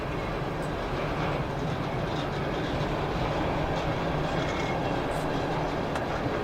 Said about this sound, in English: The symbol on this train here is CSX Q367.